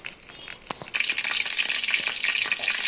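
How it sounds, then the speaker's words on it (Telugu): Ivy gourds (tindora) frying in hot oil give a steady, dense sizzle that swells after a few faint clicks and then holds evenly and fairly loud to the end, with no voice over it. "మనం దొండకాయలు వేపుకుంటాం"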